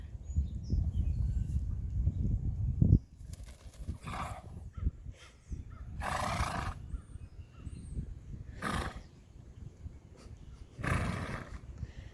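Loud horse snorts and neighing bursts come in a few separate outbursts between quieter stretches, after a low rumbling start.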